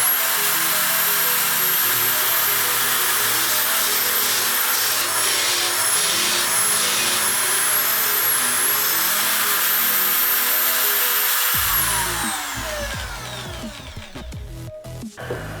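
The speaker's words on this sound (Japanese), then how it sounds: "穴を開けてしまって、そこからこの2センチ幅先にくり抜いていきたいと思います" A handheld power tool drills a hole and cuts out a circle in wood to make a circle-cutting jig, with a loud, steady high whine and grinding that runs continuously before winding down near the end.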